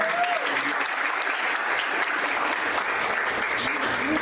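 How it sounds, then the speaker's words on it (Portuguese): Steady applause from a crowd at a school semester closing ceremony, many hands clapping continuously throughout, fairly close and even in loudness. "Salve de palmas"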